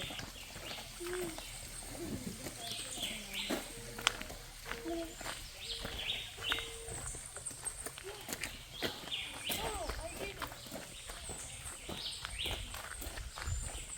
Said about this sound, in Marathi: पक्ष्यांचा आवाज होता चिलचिवाट